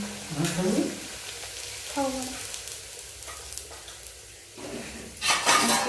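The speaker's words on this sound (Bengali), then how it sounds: "দেখো তেলটা গরম হয়ে গেছে, এবারে লুচিগুলো করে নেবো" Luchi frying in hot oil in a wok, bursts of sizzling and stirring clinks near the microphone, with someone speaking briefly between them and a louder fizz near the end.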